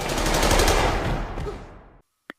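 A sustained burst of rapid machine-gun fire from the execution of a losing team in Squid Game season 2, loud and dense for about two seconds, then dropping away into silence with one short sharp crack after.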